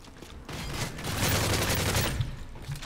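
Rapid bursts of AK rifle fire in the Modern Warfare 3 Survival Spec Ops mission on the Underground map, a dense, loud rattle of shots sustained for about two seconds with no talking.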